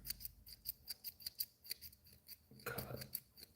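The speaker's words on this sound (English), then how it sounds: "I'm gonna thin it out a bit with some vertical chops" Scissors make quick vertical chops into fly-tying material for an articulated streamer: a rapid series of crisp, close metallic snips in an uneven rhythm, followed by a slightly longer rustling cut near the end.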